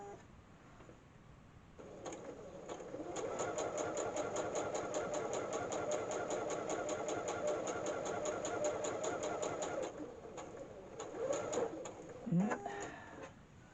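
A sewing machine stitches a wrist pin cushion in a fast, even run of needle strokes lasting several seconds, quiet and close, then stops. A few softer bursts and handling noises follow.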